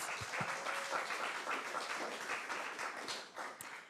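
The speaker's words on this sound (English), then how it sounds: "Round of applause, please, for our track leaders." An audience at a closing conference session applauds the track leaders, a dense, steady patter of many hands clapping at moderate distance, fading slightly near the end.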